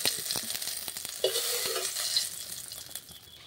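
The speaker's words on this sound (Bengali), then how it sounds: "এগুলো একটু লাল লাল করে ভেজে নেব।" Tomatoes frying in a pan, a steady close sizzle with stirring scrapes and brief louder bursts as pieces are turned, with no voices.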